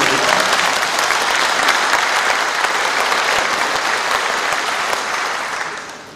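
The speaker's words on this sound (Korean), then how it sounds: "잘했다고 생각되시면 박수를" Dense, steady applause from a large crowd at a city mayor's inauguration ceremony, filling the room loud and continuous before tapering off at the end.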